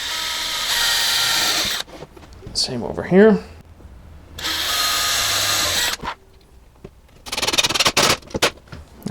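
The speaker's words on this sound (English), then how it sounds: "And now we'll drill into there, nice and straight." Power drill pre-drilling holes into clamped wood for a floating Captain America shield, several loud whirring bursts separated by pauses, close up, with brief speech in between.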